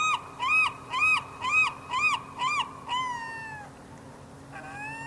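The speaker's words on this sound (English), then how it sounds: "That's a big glaucous seagull." A big glaucous gull calls from close by in a run of six loud, evenly spaced yelping cries, then a longer drawn-out wail, and after a short pause a final fainter call begins.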